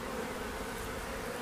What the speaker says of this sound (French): dans la ruchette, il reste des abeilles, bien sûr.